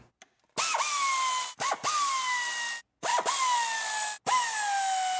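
Valve cover bolts on a 4-cylinder engine being backed out with an E10 female Torx socket on a power tool, three loud close bursts of whirring ratchet noise separated by short pauses.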